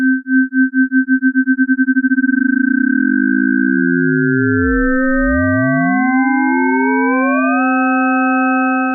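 An FM synthesis tone with a second sine wave added to the carrier: a steady electronic tone starts pulsing, then smooths out as extra harmonics split off and glide apart into a rich, buzzy synthesized chord.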